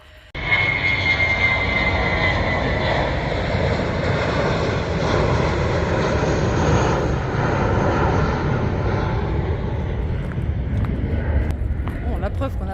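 A fixed-wing airplane passes low beside Santiago airport, its engine a steady, loud roar that holds unbroken for over ten seconds before easing slightly at the end.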